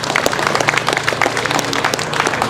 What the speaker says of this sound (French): je crois que vous pouvez applaudir Alain Escada et son association qui se mouvement Civitas